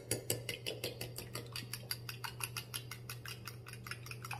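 Eggs are whisked into cookie dough in a bowl, a fast, regular clatter of utensil against the bowl, close and steady throughout with no talk.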